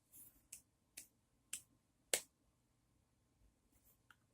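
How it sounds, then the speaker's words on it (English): A lone person claps unevenly in a quiet room, about five sharp, close claps spaced irregularly, followed by a couple of faint ones. "horrible clapping, huh?"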